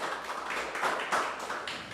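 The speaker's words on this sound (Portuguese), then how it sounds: "Aplauda Jesus bem forte, irmãos" Applause from a church congregation, steady hand claps in soft swelling waves, somewhat distant and reverberant, with no talking.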